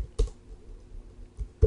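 Someone types a command on a computer keyboard: a few soft, separate key clicks spread over a couple of seconds, close and quiet, with no talking.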